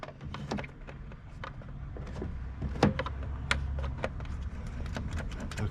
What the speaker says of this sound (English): So it is trying to open the door.